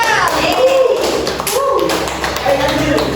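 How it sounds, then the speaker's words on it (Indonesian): Schoolchildren in a classroom beat their hands on their desks, a loud clatter of taps and thuds with children's voices mixed in throughout. "ayo tepuk tangan meja"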